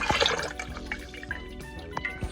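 Bone broth is poured into a 2 litre jug, a close gurgling pour with splashes and drips over about two seconds.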